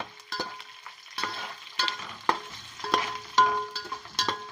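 Sliced onions with curry leaves frying in oil in a pan for puffed rice upma, stirred with a spoon: close, irregular scraping and clinking strokes over a soft sizzle, with no talk.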